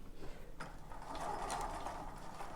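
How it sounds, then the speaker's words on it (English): A sewing machine whirs quietly in short bursts with a mechanical clatter, fairly faint and close. "sorry about the sewing machine noise."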